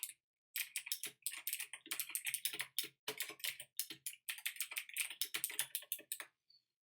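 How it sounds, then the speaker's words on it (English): Rapid clicking keystrokes on a noisy mechanical computer keyboard, up close, in irregular bursts with short pauses, no voices. "Sorry for the sound of this keyboard, though. It's mechanical and it makes a lot of noise."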